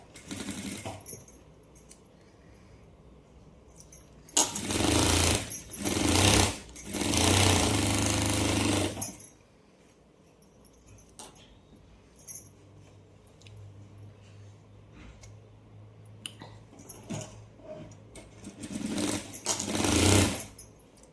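Sewing machine stitching at home in bursts, a rapid mechanical rattle starting and stopping several times with quieter pauses between runs, close and loud, no talking.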